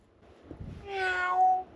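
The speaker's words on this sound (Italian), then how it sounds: "Quello è il gattino veramente." A cat gives one drawn-out, rising meow close by, after a few soft bumps and rustles.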